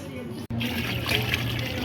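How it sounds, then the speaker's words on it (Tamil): Water is poured into a large pot of biryani being cooked in an apartment in Qatar, making a steady gushing splash that is close and continuous, with a short break and a low background hum. "பிரியாணிக்கு வந்து இப்போ தண்ணி எல்லாம் ஊற்றி ரெடி பண்ணிட்டு இருக்காங்க"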